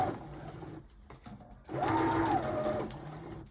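Sewing machine stitching down a T-shirt seam, a short close burst of rapid mechanical whirring after quieter handling and pauses.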